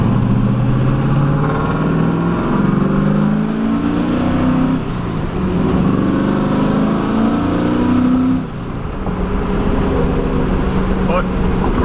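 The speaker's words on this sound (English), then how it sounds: "But the car's running good, it sounds good" A Pontiac Trans Am WS6 drones along on the road, its engine note rising and falling under the cabin noise, with a brief dip near the end before it settles back into a steady cruise.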